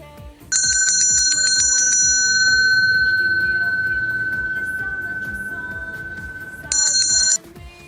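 An electric school bell rings for the last-bell ceremony: a loud, piercing, sustained tone holding for several seconds, fading slightly, then a brief final burst before cutting off.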